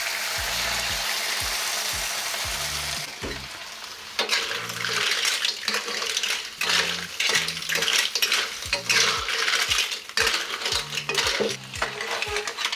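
Clams in black bean sauce stirred in a wok, with metal utensil scrapes and clinks over a steady sizzle, close and irregular, and no voices.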